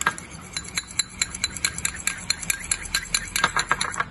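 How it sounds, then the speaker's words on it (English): A utensil scrapes and clinks rhythmically against a bowl as tabbouleh is tossed with black pepper, salt and dressing, a steady run of close, bright taps and rubs with no talking. "Just mix all that up."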